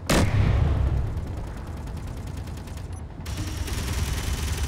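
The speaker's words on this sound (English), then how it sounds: "There's more shooting." Video game gunfire comes as a dense, loud, continuous fusillade of rapid shots, broken by a brief pause before the shooting resumes.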